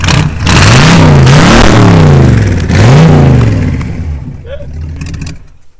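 A Buick V8 car engine roars loudly with repeated rising and falling revs, throttle blipped several times before settling toward a lower rumble as it fades out.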